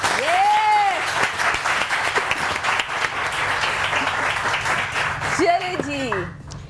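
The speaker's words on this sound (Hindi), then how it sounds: "एक भरपूर तालियां मेरी ऑडियंस के लिए।" Studio audience applause on a Pakistani morning TV show, a dense, steady wash of clapping that runs the full length, with a host's voice briefly rising over it near the start and again near the end.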